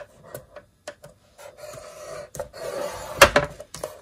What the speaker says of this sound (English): I'm going to score it at 1/2 inch